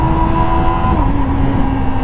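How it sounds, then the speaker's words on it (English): A 2024 Kawasaki ZX-25R SE motorcycle engine revs hard at high RPM with a loud, sustained, steady whine close by. "Because this is a high revving engine, now I'm at 6000 RPM"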